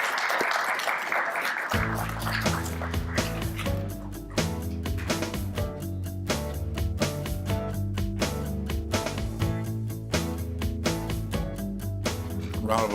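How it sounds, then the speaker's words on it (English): Brief clapping for second graders at a fair housing poster and essay contest awards ceremony lasts under two seconds before loud, rhythmic music takes over for the rest. "Round of applause for all of our second graders."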